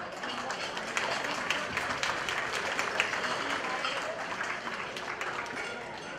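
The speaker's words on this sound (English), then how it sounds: "So we will give Peter Gu a great applause." An audience at an anniversary celebration gala for a New York civilian patrol group applauds, a steady, moderately distant round of crowd clapping that holds throughout.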